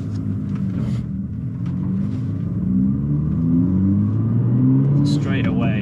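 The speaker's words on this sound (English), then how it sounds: "Straight away, the exhaust noise at the back, much louder." Exhaust of a manual BMW M2 (F87) droning steadily from the rear while driving, a low engine rumble that swells as it accelerates, with a voice speaking over it near the end.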